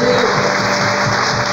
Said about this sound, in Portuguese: Vamos começar aplaudindo ao Senhor